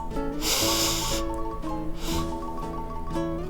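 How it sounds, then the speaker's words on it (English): Several short, forceful sniffs through the nose while nosing tequila, breathy bursts repeating in quick succession over a background of soft music. "So get your nose in deep and take short, strong sniffs."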